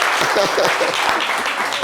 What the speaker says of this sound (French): applaudissements pour tous ceux qui ont participé à cette séquence